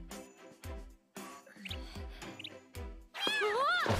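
A cat meows in a video game, short close calls set between game music and effects, followed by a louder chirpy burst near the end.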